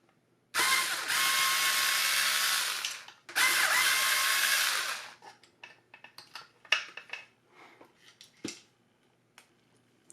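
Two sustained whirring bursts from a power driver backing screws out of a Dyson V10 vacuum sound close and loud, split by a short gap, then give way to scattered light clicks and handling noises of plastic parts.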